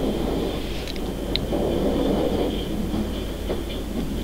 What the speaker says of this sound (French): Le train grande ligne Le Cévenol reliant Marseille à Clermont-Ferrand s'élance de la gare de Genolac.